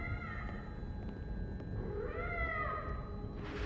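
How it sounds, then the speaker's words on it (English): A cat meows at an apartment door in the video game Life is Strange Double Exposure, with a few drawn-out, rising-and-falling cries standing out over a low background hum. "There's a cat at my door."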